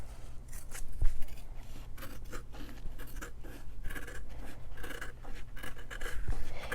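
Scissors snip and rub steadily through thick seam bulk on a sewn bridle bag, producing close, quick cutting and scraping sounds with no talking.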